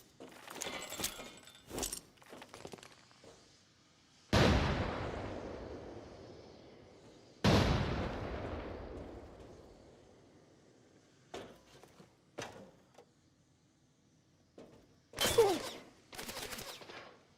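Grenade blasts in the shooter Arena Breakout: Infinite come as two sharp, loud bangs, each with a long fading rumble. Scattered clicks and shorter cracks of gunfire come before and after, with quiet gaps between.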